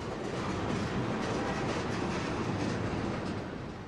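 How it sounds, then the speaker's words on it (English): A freight train of boxcars and tank cars rolls steadily past close by, a continuous loud rumble with rhythmic wheel clatter over the rails and no voices. "Behind these boxcars, this freight train is pulling tank cars."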